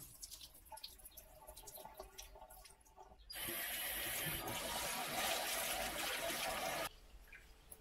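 Rinse water being poured off soaked Thai fragrant rice, a steady rushing splash of liquid that starts abruptly, runs for several seconds at close range and then stops, with softer drips and handling before it.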